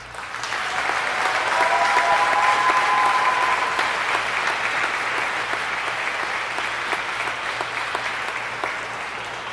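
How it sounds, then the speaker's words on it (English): Commencement audience applauding an award recipient, a dense, sustained roar of many hands that swells early and slowly tapers across the stretch, with a faint tone briefly audible underneath. "Let's have a round of applause"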